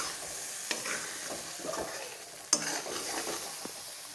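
Food frying in a pan is stirred with steady sizzling, scraping utensil strokes and a sharp clink around the middle, close and alone with no talk.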